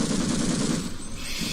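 A machine gun fires in the Half-Life video game as a dense, continuous, rapid burst of shots. The fire is loud and close and runs steadily for the whole stretch with no pauses.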